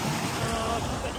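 Aegean Sea waves washing the shore at Halkidiki, Greece, heard as a continuous close roar of surf mixed with wind rumble on the microphone.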